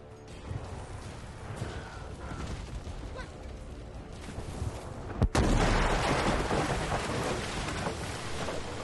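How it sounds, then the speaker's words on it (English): A huge firebomb explosion in The Elder Scrolls Online: dense rumbling battle noise builds, then a sharp loud blast about halfway through gives way to a sustained roaring, crackling wash, no talking. "Mega esplosione."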